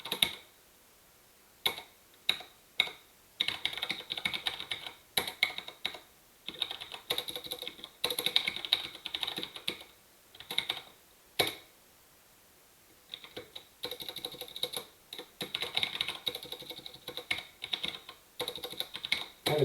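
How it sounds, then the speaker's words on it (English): Typing on a computer keyboard during a programming lecture, rapid close key clatter in bursts with short pauses, steady and moderately loud, no voices. "I'm having typing troubles today."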